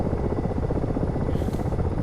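A Ka-50 helicopter in a flight simulator game gives off a dense, steady rotor and turbine drone, loud and close, with no break or change across the stretch.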